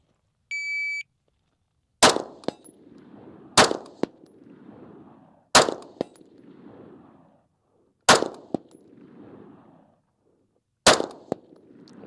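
A Steyr AUG rifle fires five widely spaced single shots at steel targets, each a sharp loud crack followed by a ringing clang of hit steel, after a short electronic beep of a shot timer.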